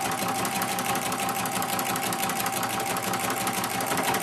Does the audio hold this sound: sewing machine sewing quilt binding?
yes